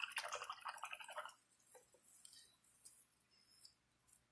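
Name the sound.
paintbrush being rinsed in water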